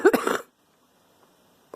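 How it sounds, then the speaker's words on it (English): A single loud cough or throat-clearing burst, close and harsh, lasting about half a second, followed by near silence and a faint short sound at the end. "still giving me the coughs."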